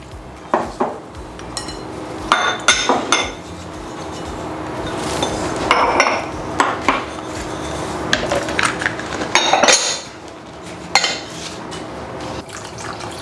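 Milk poured into muffin batter and mixed in a bowl with a hand kitchen whisk, giving close clinks and scraping of metal on the bowl in uneven bursts, with a brief liquid pour.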